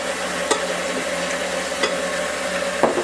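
An electric mixer runs steadily on low while eggs are added one at a time, a constant whirring hum broken by three brief clanks.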